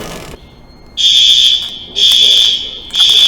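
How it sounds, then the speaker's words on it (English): Fire alarm under test inside a building, sounding three loud, piercing electronic tones of about a second each, separated by short gaps, with faint background noise between. "Testing the fire alarms."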